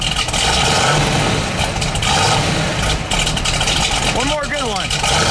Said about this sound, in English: Give it a rev, Jeff.